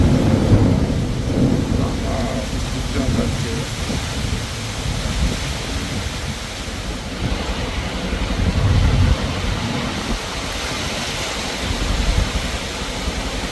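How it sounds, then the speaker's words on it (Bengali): Heavy rain with thunder under a black sky, a broad steady wash of rainfall with low rolling rumbles swelling now and then, moderately loud and continuous with no talking. "প্রচণ্ড বৃষ্টি হচ্ছে আর আকাশ দেখেছেন কালো অন্ধকার"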